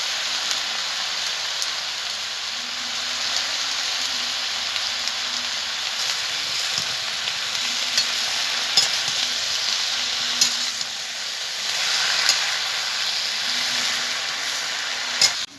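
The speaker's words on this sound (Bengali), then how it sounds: "সামান্য একটু লবণ, একটু হলুদ দিয়ে ভেজে নেব।" Vegetables for a Malabar spinach curry fry in a pan with a little salt and turmeric, giving a steady, close hiss and crackle with a few soft stirring knocks, no voices.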